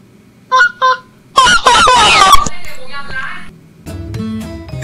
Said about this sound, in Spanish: ¿Ese es tu ganso? No, lo tengo aquí al lado. ¡Saluda, ganso!